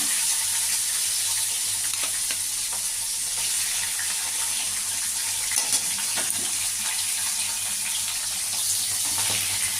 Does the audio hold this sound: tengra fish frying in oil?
yes